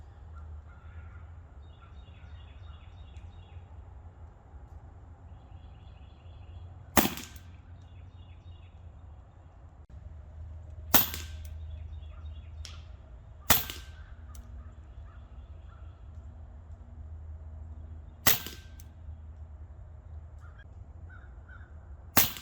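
Five sharp, sudden cracks come at irregular intervals from a semi-auto Marauder air rifle firing Crosman Premier pellets, standing out loud and close against quiet background noise.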